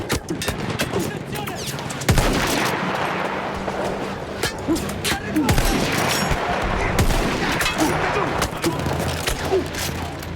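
Machine gun fire in Battlefield 1, a mounted Austro-Hungarian gun firing sustained rapid bursts nearby, loud and dense throughout with booms and battlefield noise, while voices talk over it.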